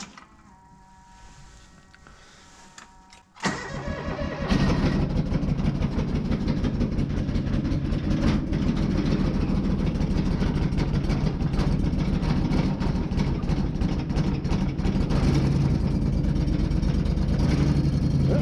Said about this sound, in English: Okay, John Deere 425 cold start.